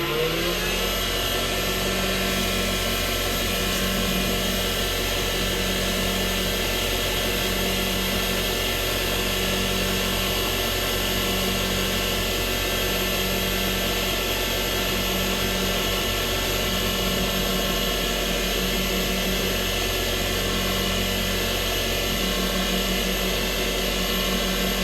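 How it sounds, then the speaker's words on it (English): A power buffer spins up to polish wax onto an Omega fountain pen, giving a steady, close motor whine with a low, pulsing hum that holds evenly throughout, with no one talking. "I'm going to buff that up now"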